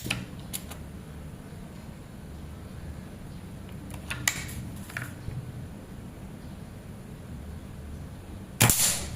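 A PCP air rifle charged to 2700 psi, with short sharp cracks and metallic clicks scattered over a low background hum and a louder burst near the end, heard at close range with no talking.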